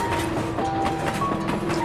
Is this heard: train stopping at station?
yes